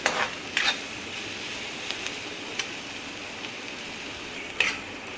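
Bitter gourd (karela) frying in a pan on medium heat, a faint soft sizzle with a few sharp stirring clatters of a spoon against the pan.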